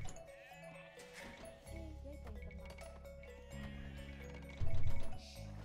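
Sheep in Age of Empires II give short in-game bleats over a low hum of game sounds, with one louder bleat near the end.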